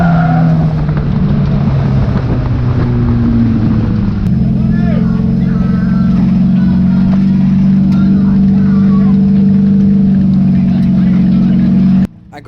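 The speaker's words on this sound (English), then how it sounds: "gets the car back into gear and tries to finish the race" A race car at Cowdenbeath Racewall revs loud and close, engine note rising and then holding a strong steady drone after getting back into gear, cutting off sharply near the end.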